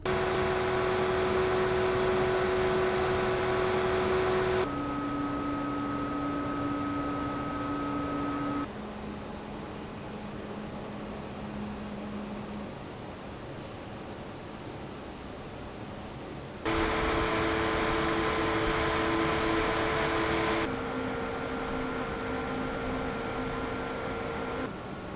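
Be Quiet Light Wings white ARGB PC case fans run with a steady airy whoosh and faint tonal hum, stepping between louder and quieter speed settings, with no talk.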